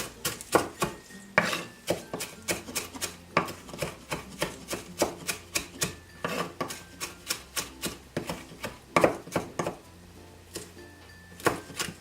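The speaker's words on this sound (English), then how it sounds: "for my flat leaf parsley, I'm merely going to chop it up" Flat leaf parsley is chopped small with a knife on a board: a quick, steady run of sharp, close blade knocks, some in rapid bursts, with a brief pause near the end and no talking.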